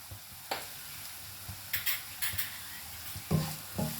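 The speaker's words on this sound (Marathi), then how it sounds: "आणि व्यवस्थित ही भाजी ढवळून घ्यायची" Spiced phodshichi bhaji with red chilli and turmeric stirred in a pan, the spoon scraping and tapping against the metal at irregular moments over a quiet sizzle.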